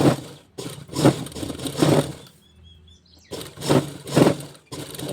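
A sewing machine runs rough basting stitches through folded blouse fabric, in several short bursts with a quiet pause between them, close and fairly loud.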